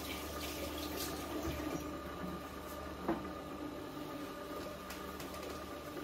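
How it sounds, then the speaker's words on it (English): A kitchen tap runs while hands are rinsed during home baking, a faint, steady stream of water splashing into a sink for several seconds. "Just rinse my hands."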